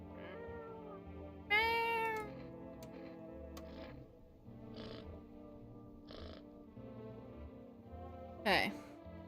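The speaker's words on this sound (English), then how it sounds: "Pet the cat." A cat in a video game lets out two clear meows, one early and one near the end, over quiet game music and ticking sounds, with a person talking between them.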